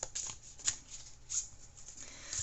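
Starseed oracle cards being shuffled in quick, papery riffles and soft flicks, with brief sharper snaps standing out over a low, steady background.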